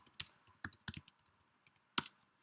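Someone typing a command on a computer keyboard, a quiet, irregular scatter of close key clicks with short gaps and one sharper final keystroke, with no talking.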